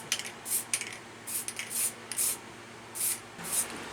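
Short hissing bursts of spray paint hit a Tamiya Agrios model body, about eight quick puffs in an uneven rhythm, close and fairly quiet.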